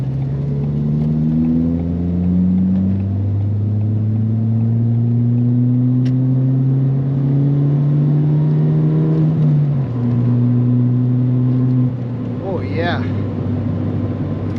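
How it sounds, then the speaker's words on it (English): A Ford Fiesta ST with an MBRP XP Series exhaust drones loudly and steadily from inside the cabin, its engine note dropping in pitch as it downshifts and then settling at a lower tone near the end. "I'm gonna get a little bit of a downshift here."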